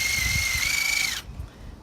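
A power drill boring bolt holes through wood boards in a woodworking project, a loud, steady high-pitched whine for about a second before it cuts off abruptly and leaves low background noise.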